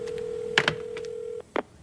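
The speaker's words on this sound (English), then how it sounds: "It's ringing. I'll put it on speakerphone." A telephone on speakerphone gives a steady ring tone of a little over a second, with a few short tones over it, then a brief burst near the end.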